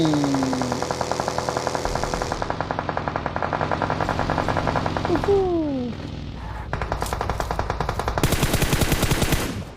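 Rapid bursts of automatic machine gun fire in a video game squad battle, loud and near, running almost continuously with a few pauses and sharper rattling bursts toward the end.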